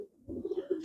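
Crossbred pigeons coo in a soft, close series of low pulsing calls, several short rounded notes in quick succession with no voices present.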